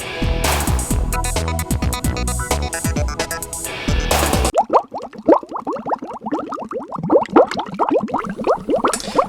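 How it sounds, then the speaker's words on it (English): Lidded pot of water on a stove coming to a boil, a steady close bubbling and popping that follows a burst of music. "I put the pot on to bring to a boil with that lid"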